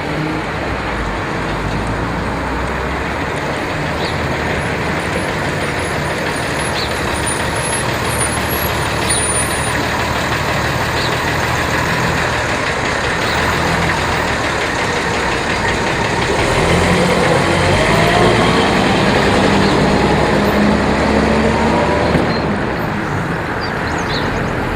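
A GS-class heritage London bus, GS64, idling on a rural road in Datchworth during a running day, a steady diesel rumble with a brief air-brake hiss, swelling louder late on, with no talk.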